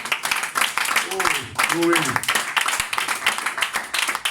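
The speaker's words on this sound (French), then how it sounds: "Donne-lui une acclamation ce matin." A church congregation at a French-language Sunday service breaks into clapping in acclamation, dense applause filling the room while voices call out over it.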